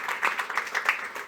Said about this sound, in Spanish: Un aplauso para Lorenzo.